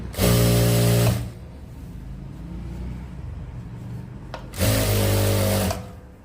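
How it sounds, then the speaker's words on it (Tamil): A sewing machine stitches a seam on a men's shirt in two loud, steady motor bursts of about a second each, with a quiet pause between them. "அப்படியே 3த்தையும் ஒன்றா பிடிச்சி தையல் போடுங்க"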